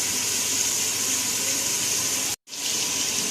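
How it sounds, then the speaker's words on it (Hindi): Thick yogurt poured from a container into a jug in a home kitchen for making kadhi, a steady wet gushing pour at close range that cuts out briefly near the end and then resumes, with no talking. "मैं जग के अंदर दही डालने लगी हूँ"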